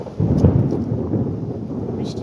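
Deep thunder rumbles close and loud during heavy rain, with the rain hissing steadily under the low rolling boom.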